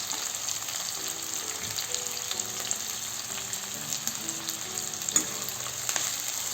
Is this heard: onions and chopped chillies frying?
yes